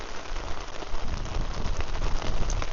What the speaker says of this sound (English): natural ambience of the rain.